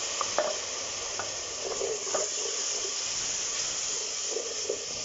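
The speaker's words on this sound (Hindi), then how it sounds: "थोड़ा सा पानी डालेंगे ताकि मसाला जले नहीं।" Masala of red chilli, coriander and turmeric sizzling in a pan as a little water goes in, giving a steady close hiss and frying crackle with intermittent stirring scrapes and no talking.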